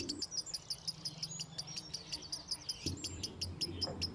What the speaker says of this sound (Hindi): अरे यहाँ नीचे तो चिड़िया के बच्चे हैं